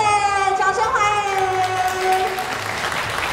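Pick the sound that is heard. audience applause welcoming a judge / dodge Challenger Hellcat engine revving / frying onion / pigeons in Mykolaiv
audience applause welcoming a judge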